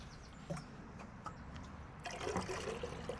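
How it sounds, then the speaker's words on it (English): Water pours and trickles into a container close by, gurgling faintly at first, then a fuller steady rush as the filling picks up. "Fill this up with water."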